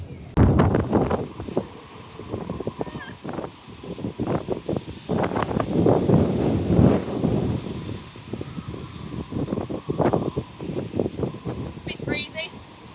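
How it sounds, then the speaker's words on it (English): Breezy wind by the Gothenburg canals buffets the microphone in repeated rough gusts, loud and close, with people talking intermittently through it. "Bit breezy."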